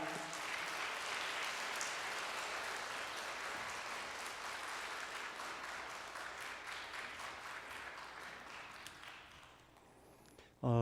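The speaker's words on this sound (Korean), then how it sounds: "우리 목사님 나오실 때 큰 박수로 목사님 모시겠습니다." A church congregation applauds steadily for several seconds, a dense patter of clapping that thins out and fades near the end.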